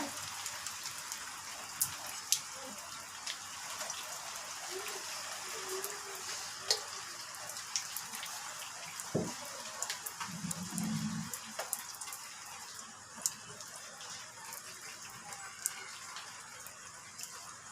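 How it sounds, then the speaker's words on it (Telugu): Steady rainfall hisses throughout, with scattered sharper drops tapping nearby and a brief low rumble midway. "హాయ్ ఫ్రెండ్స్ వర్షం పడుతుందండి"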